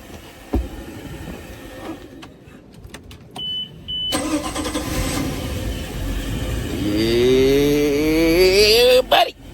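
A Volvo Penta 5.7GI marine engine is switched off and restarted: a few clicks and a brief beep, then the starter cranks and the engine catches, revving up with a rising whine and settling into a loud running roar.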